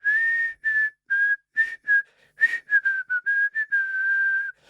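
A clear, bright whistled melody carries on alone, sustained notes and short phrases with small pauses, steady and fairly loud.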